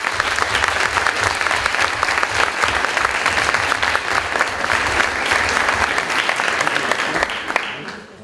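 Loud, dense audience applause at an eloquence contest final, greeting candidate Mohamed Joma; many hands clap continuously close by, then the sound fades out near the end.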